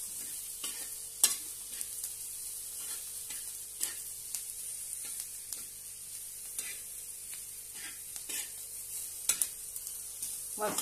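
Onion chutney fries in a pan with a constant soft sizzle, broken by repeated scraping strokes of a spoon stirring it at an irregular pace.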